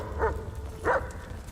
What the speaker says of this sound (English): Oh yeah, I forgot I cloned some of the dogs.